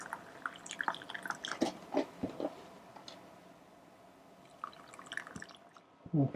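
Water dribbles onto seedlings in small pots, with soft irregular drips and wet squishing close by, scattered in clusters with a quiet gap between them.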